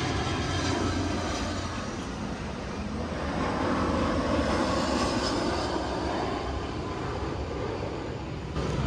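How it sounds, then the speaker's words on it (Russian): Airplanes flying low near an airport in Singapore, a loud continuous engine roar that holds steady throughout the clip. "Мы рядом с аэропортом, поэтому вот здесь вот самолеты так низко летают."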